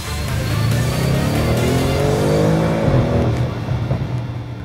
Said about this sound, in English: One only recognizes its worth when the sports exhaust starts to sing.